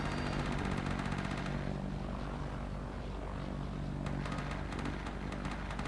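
Droning WW1 aircraft engines and propellers in the Mount & Blade Warband Parabellum mod, a continuous loud roar filling the scene with a faint crackle of gunfire mixed in.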